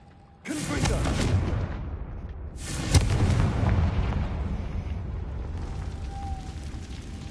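A Confringo blasting curse goes off in Hogwarts Legacy, a sudden loud burst followed by a long roaring rumble, with a second sharp blast about two seconds later that rolls on and slowly fades.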